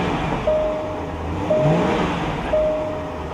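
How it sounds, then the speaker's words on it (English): A car engine held at a steady idle-to-rev drone with faint rises, close by, with no talk over it. "Give it a little rev."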